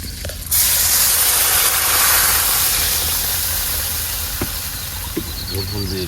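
Water is poured into a hot pan of braising meat during outdoor cooking on the Damodar river, setting off a sudden loud hiss of steam that slowly fades, with faint background noise toward the end.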